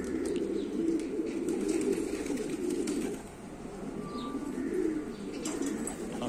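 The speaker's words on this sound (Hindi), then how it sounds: "ये मेरे कबूतर हैं" Pet pigeons cooing in a low, continuous murmur, a flock close by with soft overlapping coos and occasional faint chirps.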